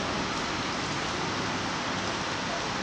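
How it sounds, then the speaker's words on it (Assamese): Steady rain pours down outside a vehicle washing business, a dense, even hiss that holds constant throughout with no voices over it. "এতিয়া পানী পৰি আছে"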